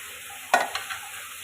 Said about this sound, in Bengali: আলু দিয়ে দিচ্ছি।